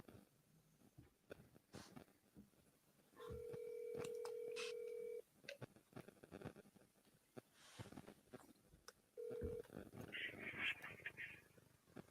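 A phone line beeps with a long steady dial tone, then a short tone and ringing, amid faint background sounds and muffled talking.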